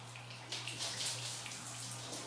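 Water running and splashing steadily while hair is rinsed during an at-home hair wash, a continuous close shower-like flow with a faint steady hum underneath.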